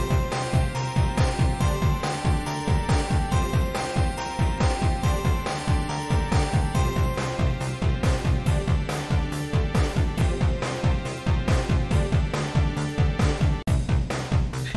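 Short self-made looping music for a video game, with a steady, busy rhythmic pattern of repeated percussive hits and sustained tones that cycles evenly throughout with no voices.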